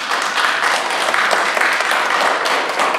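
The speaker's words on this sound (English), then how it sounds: "Round of applause, come on." Audience applause at Long Beach Comic Con fills the room as a dense, steady wash of many hands clapping. It is loud and continuous throughout, with no speech over it.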